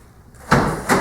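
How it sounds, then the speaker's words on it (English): A retractable pleated screen on a door slides open and shut, giving two quick rattling swishes about half a second apart, close and fairly loud. "All you have to do, open the shade and close it."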